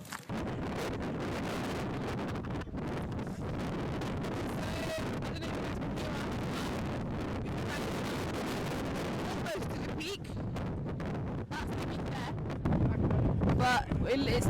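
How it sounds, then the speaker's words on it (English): Strong, gusty wind roars across a microphone high on Mount Snowdon, a constant loud buffeting that swells and drops, with bursts of talk from hikers underneath. "But it's too windy, it's too gusty."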